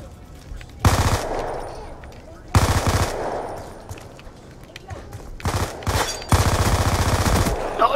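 Automatic gunfire in a video game comes in several loud, sustained bursts of rapid shots, separated by brief gaps, with a player's voice talking in between.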